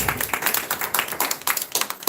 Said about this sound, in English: So please give a big round of applause to them.